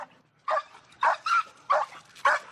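Emily, a frustrated pit bull, barks in five sharp, evenly spaced bursts at moderate volume, each bark short and punchy with brief pauses between.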